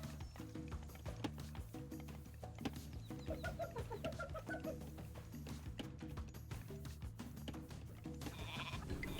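Sheep bleating in the video game Age of Mythology, repeated bleats over dense, busy game ambience and background music, with faint hoof-like clopping; no talk.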